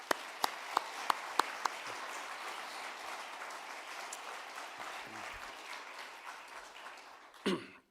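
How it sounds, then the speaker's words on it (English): A conference hall audience applauds the speakers at a summit's closing keynote, steady sustained clapping filling the room for several seconds with a few sharp louder claps near the start, then fading out at the end. "So I'd like to give another round of applause to all the speakers that have appeared today"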